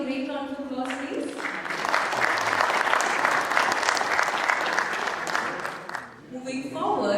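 A conference audience at a publishing industry event gives a sustained round of applause, a steady wash of clapping that swells in the middle and fades out near the end, with brief talk at the start and finish.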